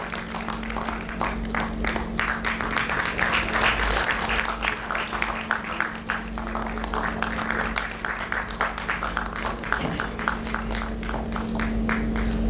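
An audience at a felicitation event claps steadily in gratitude for teachers, a moderate, even round of applause heard through a room system with a steady electrical hum beneath it.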